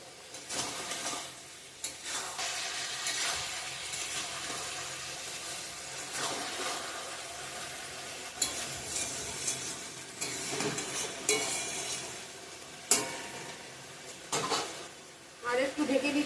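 Moong dal cooking with ridge gourd and potato, stirred and sizzling steadily in a pot, with scraping and liquid bubbling sounds running throughout, occasional louder clanks of a spoon against the pan.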